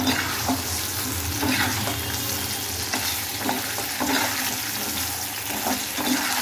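Taro root (seppankizhangu) pieces frying crisp in oil, a loud dense continuous sizzle with frequent stirring scrapes and bubbling, close up and unbroken, no voices.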